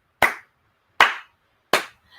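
Three sharp, evenly spaced hand claps ring out close and alone in a quiet room, each with a brief decaying tail, followed by a faint trailing sound.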